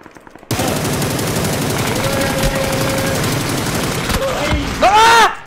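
Rapid automatic gunfire rattles loudly and continuously in PUBG, a dense burst lasting several seconds, then a few scattered shots and effects near the end.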